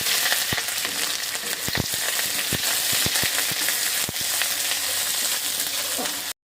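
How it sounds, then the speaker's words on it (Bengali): Onions fry with garlic, panch phoron and green chilies, sizzling steadily in hot oil, a continuous crackling hiss close by, broken by sharp taps of a spoon stirring the pan. "পেঁয়াজটা ভাজা হয়ে গেছে"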